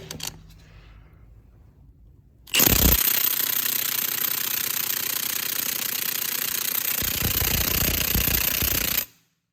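A Milwaukee Fuel cordless impact tool hammers on a lug nut in one loud, sustained burst of rapid rattling impacts lasting several seconds, then stops abruptly, with quieter ambient noise before it starts.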